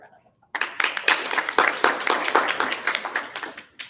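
A small crowd at a cross country team banquet breaks into close, brisk hand clapping that starts abruptly and continues for several seconds in an uneven patter.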